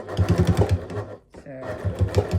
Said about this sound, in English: I am going to do a little back stitch because I'm not going to come back to this corner